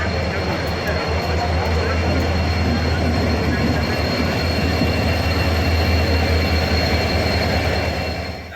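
A passenger train leaving Howrah station runs on its rails with a loud, continuous low rumble and rattle of wheels and carriages, a steady drone that fades slightly at the end, with a faint murmur of voices inside.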